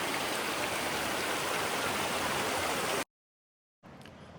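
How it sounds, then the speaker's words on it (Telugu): A small waterfall by a little temple, known as the temple waterfall, roars as a loud, steady broadband rush for about three seconds, cuts to silence, then resumes more faintly. "గుడి జలపాతం అంటమ్మా ఇది"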